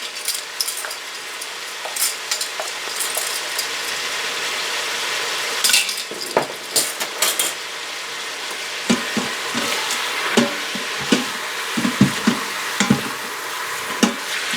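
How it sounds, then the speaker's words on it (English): A wooden spoon scrapes and stirs seasoned ground meat for chili in an Instant Pot. A continuous close sizzle carries irregular scraping strokes and soft knocks against the pot bottom, with no voices. "I usually use a wooden spoon like this, and I scrape the bottom as I go."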